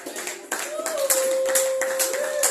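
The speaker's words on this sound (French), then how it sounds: "Nous voulons avoir des acclamations de triomphe." A church congregation claps continuously and enthusiastically, with a steady sung or held tone running through and voices underneath.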